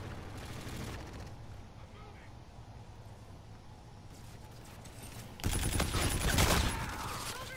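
Gunfire in Call of Duty Infinite Warfare during a Kill Confirmed match: rapid bursts of shots over a busy game mix, swelling into a loud flurry near the end.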